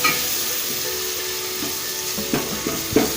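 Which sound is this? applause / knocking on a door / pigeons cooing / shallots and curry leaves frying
shallots and curry leaves frying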